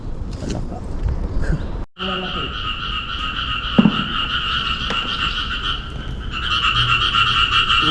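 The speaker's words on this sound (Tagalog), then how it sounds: "Bullfrog." Bullfrogs croak near water in a dense, continuous droning chorus that grows louder toward the end, with faint voices and handling noises underneath.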